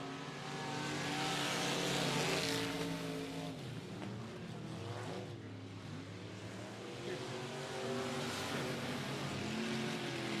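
Dirt track race cars roar around the oval at 105 Speedway on a regular race night, engines droning and swelling as they pass, loud and continuous with faint crowd or announcer sound beneath.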